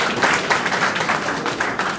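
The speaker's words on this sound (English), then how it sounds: "I'm going to give you a round of applause." Audience applause at a launch party for a digital startup incubator, a dense steady patter of many hands clapping close by for about two seconds, with no voices over it.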